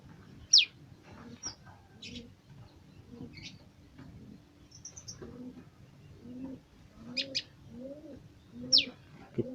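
Prinia birds kept in a lovebird cage give a few high, thin chirps, scattered sparsely over several seconds, along with lower cooing calls from other caged birds under a soft ambient hum.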